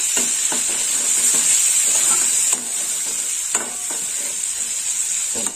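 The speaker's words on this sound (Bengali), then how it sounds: "একটু ভাজা হোক।" Turmeric powder frying in oil in a pan for a tangra fish posto curry, a loud bright sizzle broken by repeated scraping stirs, the hiss dropping slightly partway through, with no talking.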